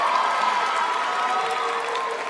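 Graduation ceremony audience at a business school undergraduate celebration applauds and cheers steadily for an introduced student speaker, a dense continuous wash of clapping filling a large hall throughout.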